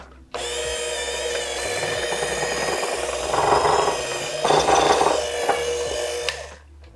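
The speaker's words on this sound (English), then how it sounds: "I'm gonna get my handheld mixer out here, pop on our brackets or our beaters." A handheld electric mixer runs steadily while beating pumpkin spice cake batter in a bowl. Its motor whirs close and loud, with swells of rougher churning as the beaters work through the batter, and then it winds down.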